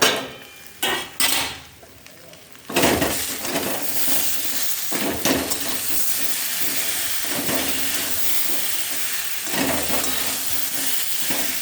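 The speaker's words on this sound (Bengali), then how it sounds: "এই দেখো বন্ধুরা, চাপা দিয়ে রেখেছিলাম, এবার চাপাটা খুলছি।" A lid comes off a pan of spiced jackfruit and potato, a few clanks of metal followed by a steady loud sizzle and hiss of frying that carries on with occasional stirring scrapes.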